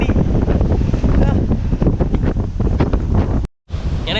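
Strong wind batters the microphone on a Goa beach, a loud, continuous roar with surf mixed underneath and a brief dropout near the end.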